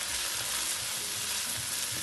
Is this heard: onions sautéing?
yes